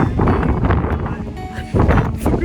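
Loud gusts of mountain wind buffet the microphone with a rough, low rumble that surges and eases, dropping briefly before rising again.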